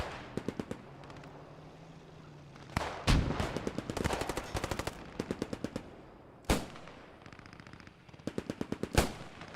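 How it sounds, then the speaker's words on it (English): Defenders' rifle and machine-gun fire in a Post Scriptum WWII battle, shooting through trees and bushes: repeated sharp bursts and single loud shots, some near and some farther off, continuing throughout with no talk. "Just hear the volume of fire going out here from the defenders."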